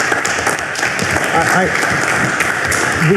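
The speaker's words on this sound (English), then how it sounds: "How about a round of applause for that?" A dense, loud wash of clapping fills a college board of regents meeting, the audience applauding steadily throughout with a few voices faintly audible beneath the clapping.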